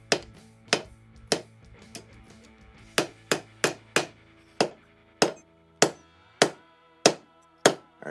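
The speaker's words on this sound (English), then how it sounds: "try and index the hammer into that little notch" A hammer strikes hot steel while a bottle opener is forged, giving sharp ringing metallic blows, close and loud, in an irregular rhythm of about fifteen hits with short pauses between them.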